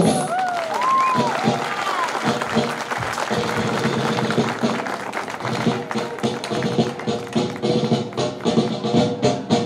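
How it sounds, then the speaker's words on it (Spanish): Audience applause at a school cultural day as flag bearers are presented, steady dense clapping filling the whole stretch with a loud hall announcer's voice and music mixed over it. "Con ustedes, los abanderados 2019. Un aplauso para ellos."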